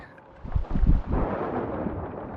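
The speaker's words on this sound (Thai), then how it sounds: "ฟ้าผ่าแล้ว" Thunder strikes during a storm in the Sea of Thieves video game: a few sharp cracks, then a loud, deep rumble that rolls on and slowly fades.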